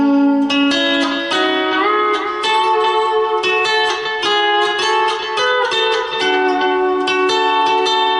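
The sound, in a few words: lap steel guitar picking second and third strings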